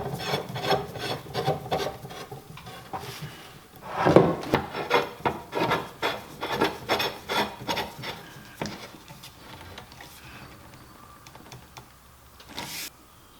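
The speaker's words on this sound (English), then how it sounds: "And these are the legs going down, and we just simply screw those in" Threaded metal pipe legs being screwed into elbow fittings for dip bars, a close rasping, grinding scrape in rhythmic twisting strokes that fade toward the end.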